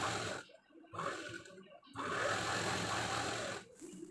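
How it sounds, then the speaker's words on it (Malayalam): Electric sewing machine stitching the seams of a school uniform nikkar (shorts), running in a few loud bursts with short pauses between them, close and alone. "കറക്റ്റായിട്ട് പിടിച്ചൊന്ന് സ്റ്റിച്ച് ചെയ്ത് കൊടുക്കുക"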